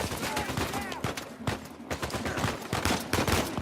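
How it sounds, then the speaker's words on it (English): Gunfire in the Uncharted 4 video game during an intense firefight, a rapid series of sharp close shots and bursts crowded together, heard alone without talk. "Sniper."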